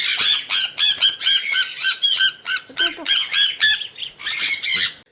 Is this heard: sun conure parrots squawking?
yes